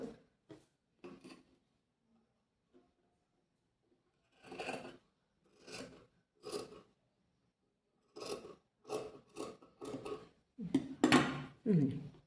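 Scissors cut fabric for a kurti in short, separate snips with quiet gaps between them. Someone speaks near the end.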